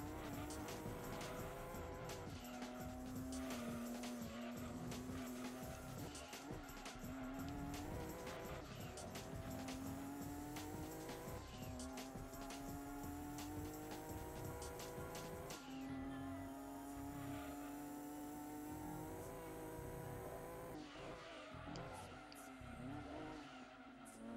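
Shelby and Viper GTS race cars in Gran Turismo 2 roar continuously at close range, their engine pitch repeatedly climbing and dropping through gear shifts, with tires squealing over a steady, dense mechanical drone.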